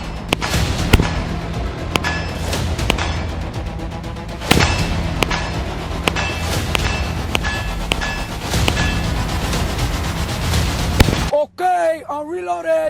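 A CZ Scorpion 3+ fires in sharp repeated shots and quick bursts, loud and close, with a voice talking over the shooting and a brief spoken moment after the firing stops.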